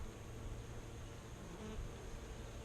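Honey bees hum steadily around a full Flow Hive packed with brood, a dense, continuous, fairly faint buzz from many insects close by, with no voices.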